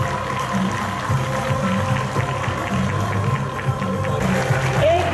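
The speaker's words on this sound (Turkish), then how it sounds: "Evet, biraz daha güçlü alkışlar alabiliriz." Sustained applause from an audience fills a parliament hall, a dense, even patter of many hands clapping at steady volume throughout, without pauses.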